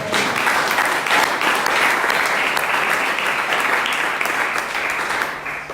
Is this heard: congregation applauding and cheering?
yes